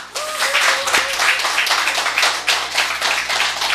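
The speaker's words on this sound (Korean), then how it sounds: "이 세 분 인사할 때 아주 우레와 같은 박수로 축하해 주시길 바라겠습니다" Loud, sustained applause from a church congregation during a deacon appointment ceremony at a Sunday service, dense clapping that stays steady for the whole stretch with no talking.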